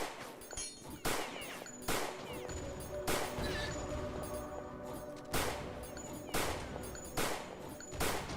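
Gunfire in the video game The Citadel shooting at the player: a run of sharp, loud shots spaced about a second apart, with a steady game soundscape underneath and no talking.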